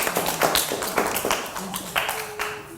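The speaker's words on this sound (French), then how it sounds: "On acclame très très très fort" Children clap in a rapid, uneven patter of close, loud claps, mixed with voices talking over the applause.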